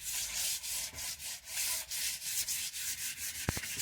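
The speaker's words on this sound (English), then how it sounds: "I'm going to show you just how fast you can sand this" Hand sanding a coated wooden piece with 220 grit sandpaper produces rhythmic back-and-forth scratchy strokes, about a dozen quick passes close up, ending with a light tap.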